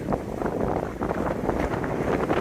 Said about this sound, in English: the wind's kind of blowing really badly here